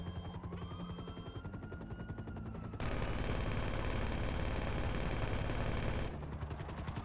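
Rapid automatic gunfire from an aircraft gun in a PS4 video game, a dense rattling stream that swells louder in a sustained middle burst before easing back, with no talking.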